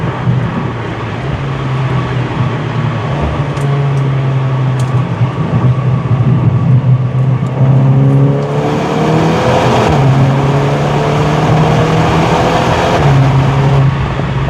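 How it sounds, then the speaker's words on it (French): Volkswagen Golf 8 GTI Clubsport engine revving under acceleration, heard from inside as a muffled, steady drone that climbs in pitch through gear changes over a constant road rumble, no talking. "Vous aimez bien la sonorité de la Golf 8 d'ailleurs?"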